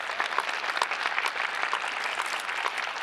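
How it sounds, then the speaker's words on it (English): Audience applause at a Portland civic leadership summit, a dense, steady wash of many hands clapping at once, filling the short stretch with no voices over it. "That deserves applause."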